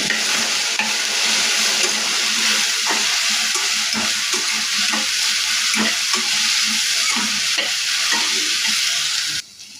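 Okra pieces with turmeric sizzle steadily in a pan while a utensil stirs them, adding repeated scraping clicks over the frying hiss. The sound runs close and fairly loud with no speech, then drops away at the end.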